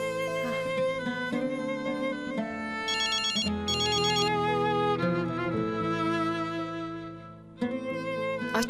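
A phone ringtone plays loud and steady for several seconds, a bright electronic melody of repeating tonal phrases with a chiming higher passage partway through, ending abruptly.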